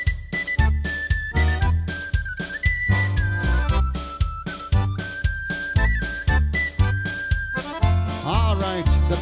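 A penny whistle plays a bright Christmas melody over a bouncy band with a thumping bass and percussion beat, loud and upfront.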